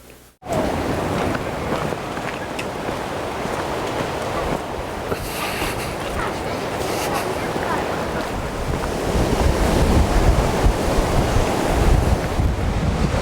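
Ocean surf on a beach, a continuous loud wash of breaking waves mixed with gusty wind buffeting the microphone, building slightly toward the end.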